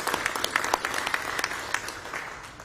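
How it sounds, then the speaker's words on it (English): Brief burst of audience applause, many hands clapping at once, moderately loud and fading slightly toward the end. "So another round of applause for him."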